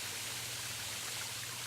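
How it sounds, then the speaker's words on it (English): Little Clifty Falls in Clifty Falls State Park, Madison, Indiana, pours as a steady, even rush of falling water, a dense broadband hiss that holds constant with no breaks and no voices. "Trails often go directly over the waterfalls themselves, as seen here at Little Clifty Falls."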